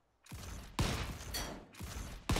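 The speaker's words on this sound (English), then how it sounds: "love it when they're shooting at you and then they hit the thing behind you" Bursts of enemy gunfire in the video game Volcanoids, arriving as several loud, dense volleys of sharp shots that come in quick succession, with no talking over them.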